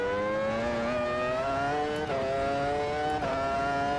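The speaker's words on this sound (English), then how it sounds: "Gotta love Formula Ones. Gotta love that engine sound too, it's so good." Formula One car engine in the racing game Automobilista 2, a loud continuous high-pitched whine climbing steadily through the gears with two quick upshifts, close and unbroken, with no talking.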